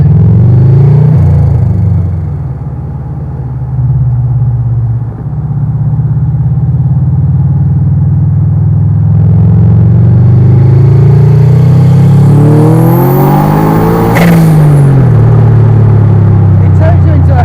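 A supercar engine, loud and close, builds from a deep steady drone into a rising rev with climbing pitch, easing off briefly before surging again, with a voice faintly present underneath.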